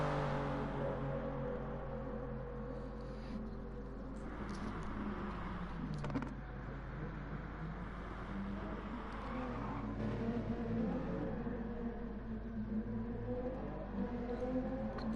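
Race car engine in a Gran Turismo GR3 sim race at Spa, sustained loud engine drone with shifting pitch as cars pass through the final chicane, with light tyre noise.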